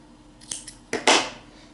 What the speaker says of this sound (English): So just cut the yarn a little bit longer.